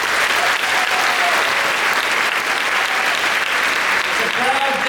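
Sustained audience applause at a high school graduation ceremony, a large crowd clapping loudly and steadily throughout, with faint voices and a few cheers mixed in.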